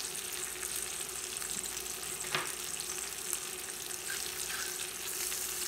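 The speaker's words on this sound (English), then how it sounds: "So again, frying up bacon," Bacon frying in a carbon steel skillet on a portable induction cooktop, a steady close sizzle and crackle running throughout with a brief spatter pop near the middle.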